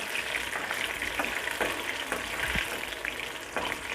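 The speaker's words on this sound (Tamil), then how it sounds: "இப்போ பாருங்கள், எல்லா பீசஸுமே நல்லா வெந்துக்கிட்டு இருக்கு." Chicken pakoda pieces sizzle steadily in hot oil, a dense, continuous crackling frying sound heard up close with occasional louder pops and stirs, and no talking.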